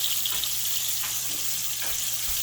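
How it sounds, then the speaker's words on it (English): Steak pieces and onions fry together in a pan, giving a steady, hissing sizzle with a constant background hum and a few faint clinks, with no talking. "I'm just putting my steak in my pan here. And I'm actually going to put my onions in here with it"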